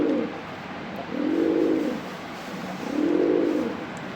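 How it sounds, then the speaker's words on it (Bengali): A male pigeon in a loft coos close by in three slow, rounded, rolling calls spaced evenly, alone without talk. "এই যে দেখো আমার নর কবুতরটার ডাক কীরকম মাশাল্লাহ দিলে।"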